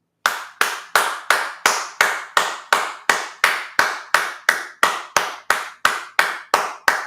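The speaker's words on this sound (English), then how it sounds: "Let's give him a hand of applause" A single pair of hands claps steadily, about twenty sharp, evenly spaced claps over several seconds, close and fairly loud with no talking.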